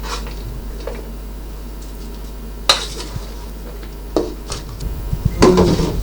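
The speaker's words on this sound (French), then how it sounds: "Je rajoute mon oignon dessus." Onion goes into a pan of coconut milk sauce, bringing scattered utensil clinks and scrapes against the pan, a few sharper knocks and a soft sizzle near the end, close by with a low steady hum underneath.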